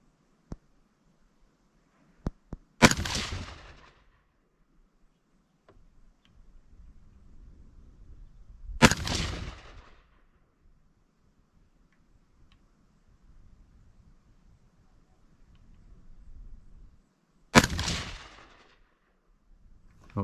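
Three loud, sharp rifle shots ring out at an outdoor shooting range several seconds apart, each with a booming decay, with quiet handling sounds in between; the rifle is being compared with standard and free-float handguards.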